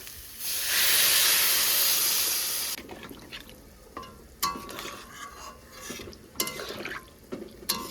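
Water poured into a pan of frying, spiced curry bursts into a loud, steady hiss of steam for about two seconds, then fades into quieter bubbling and scattered clinks of a spoon stirring against the pan.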